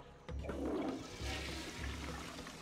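Toilet flushing in the video game Serious Sam 2: a loud rushing water flush starts abruptly after a brief pause and churns steadily through the rest of the stretch, with no talk.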